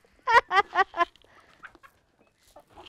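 Chickens on a farm give four loud, harmonic clucks in quick succession, followed by a few faint, scattered calls and rustles close by.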